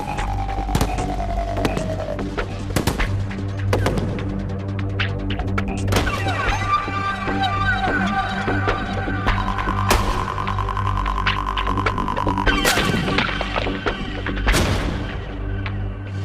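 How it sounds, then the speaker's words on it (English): Gunfire strikes a cinder block on a firing range, blowing it apart, with a series of loud, sharp booming impacts and crashes spread through the clip over a continuous low rumble and background tones. "This cinder block just blew right up."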